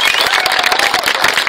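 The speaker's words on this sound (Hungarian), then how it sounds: "még egy tapsot megérdemelnek" Audience applause for a drumming troupe's stage show, dense steady clapping mixed with crowd noise, loud and close, lasting the whole short stretch.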